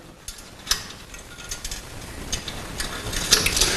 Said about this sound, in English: As soon as they're connected through, we can actually put the R pins back in.